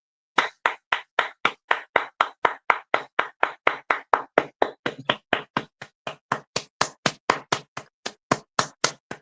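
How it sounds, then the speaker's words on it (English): A single pair of hands clapping close up on a morning radio show, about thirty sharp, evenly spaced claps in a steady rhythm, alone with no talk. "Let's give them both a round of applause."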